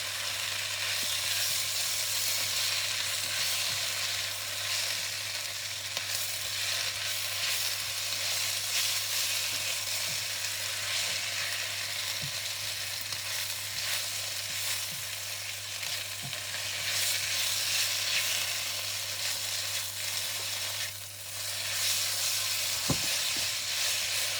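Char kway teow with bean sprouts, choy sum and noodles stir-fried in a hot wok, giving a loud, steady sizzle and hiss with faint scraping stirs throughout and no talk.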